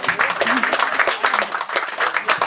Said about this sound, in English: Könnt ihr gerne mal applaudieren, Pacho.